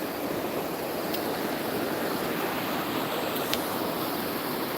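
The Salmon River at Pulaski, New York rushes in a constant, dense roar of flowing water, steady and close with no voices.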